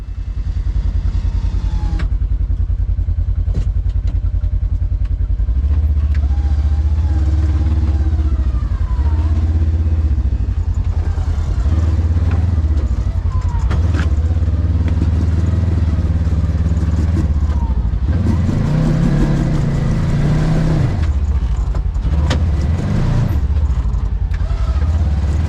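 A Polaris RZR 900 side-by-side on Portal gear reductions and 35-inch tires climbs a wet trail, its engine droning loud and close with revving surges, clatter and mud splashing throughout.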